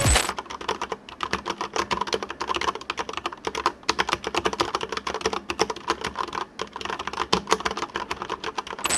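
Rapid typing on a Corsair K70 RGB TKL tenkeyless gaming keyboard, dense clacking keystrokes in quick irregular bursts, close and clear with no talking.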